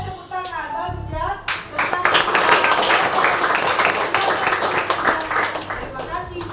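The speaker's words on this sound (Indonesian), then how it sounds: "ayo tepuk tangan" A class of students claps hands during a peer-teaching lesson, with a voice heard first and then a burst of energetic, fairly close clapping that continues steadily to the end.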